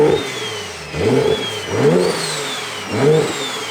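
A built twin-turbo BMW 335i N54 engine revs in three loud surging bursts as the car takes off on the clutch. A whine rides over the engine, and the sound carries on alone without speech.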